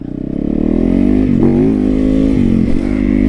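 A motorcycle engine revs loudly up close, rising then pulsing with a few quick throttle blips.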